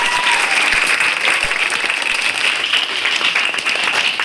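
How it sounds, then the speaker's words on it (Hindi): Audience applause at a school Hindi Day celebration, a steady, dense wash of many hands clapping together, loud and sustained throughout with no voices over it. "इसी बात पे एक बार जोरदार तालियां बजाएं।"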